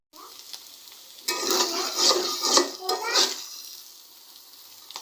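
Fried fish tongue being stirred in a pan, with a spoon scraping and clinking against the metal over a light sizzle, while someone speaks over the cooking sounds.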